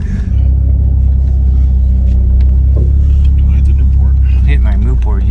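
Idling Shelby GLHS engine just after starting, a loud, deep, steady rumble close by with a voice briefly talking over it.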